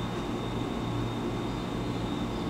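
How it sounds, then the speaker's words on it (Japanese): Steady low rumble of a 183-series rapid train arriving at Higashi-Kanagawa station platform, a continuous heavy drone with a faint high whine above it, no voices. "まもなく2番線に快速富士川口湖が到着となります。"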